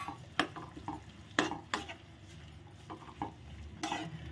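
A mixture being stirred in a cooking pot while preparing an Easter lunch, with a faint sizzle under scattered scraping knocks of a spoon against the pot, no talking.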